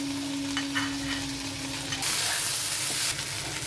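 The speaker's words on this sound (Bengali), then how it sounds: "5-6 মিনিট কষে নেওয়ার পর এবার আমি ভাজা করলাটা দিয়ে দেব।" Fried bitter gourd cooking in a pan with poppy seeds and cashews for dudh shukto, a constant close frying sizzle with a brief louder hissing surge near the end and faint stirring.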